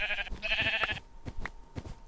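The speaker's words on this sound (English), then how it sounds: "Old sheep." A Minecraft sheep bleats close and clear in a short wavering cry, followed by faint clicking and footstep sounds from the game.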